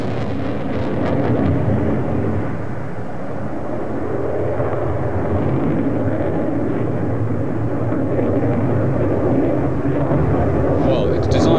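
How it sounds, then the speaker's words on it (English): Panavia Tornado F3 two-seat air defence interceptor jet at the 1988 Australian Bicentennial Airshow, RAAF Base Richmond, giving a loud, sustained broadband engine roar throughout, with speech over it. "This is the Panavia Tornado F3, a two-seater air defense interceptor and the very latest concept in fighter design."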